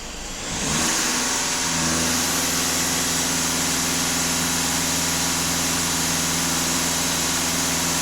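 A Skoda Octavia 4x4 engine rises from idle and is held steady at about 2500 rpm, a loud, even, sustained hum with a steady drone and no talking.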